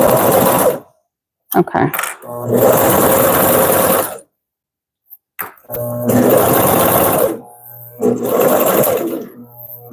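A Consew CP206RL portable walking foot sewing machine stitches in loud, close bursts of several seconds each, separated by silent pauses, with a brief spoken word in between.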